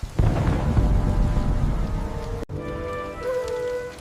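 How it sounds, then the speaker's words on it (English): Steady heavy rain pours down close by, with low thunder rumbling underneath; the wash dips for a moment, then continues steadily with a faint tonal hum over the downpour. "It's starting to rain."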